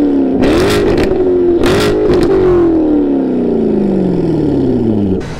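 A C7 Corvette fitted with an AWE exhaust revs loud and close, its engine note rising in two sharp blips and then falling away in a long, gradually dropping drone with some clatter.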